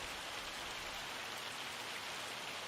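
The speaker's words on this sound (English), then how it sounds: "The hail is really loud." Hail pours down in the video game Farming Simulator 25 as a dense, steady patter and hiss of many small impacts, continuous and fairly faint with no voices.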